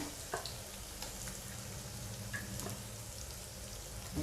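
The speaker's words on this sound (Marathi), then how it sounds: "हे बघा आता हे वाटण आपण ह्या मसाल्यामध्ये छान परतून घेऊया" Ground masala paste sautéing in oil for a Maharashtrian brinjal curry, a faint, steady low sizzle with a few soft spoon taps and scrapes, quiet and without voices.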